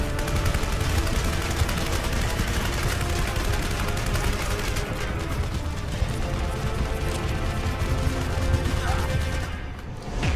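Gunfire in the Terminator Salvation video game on hard difficulty: dense, continuous bursts of automatic shooting and explosive crashes fill the whole stretch, loud and relentless, easing slightly only at the very end.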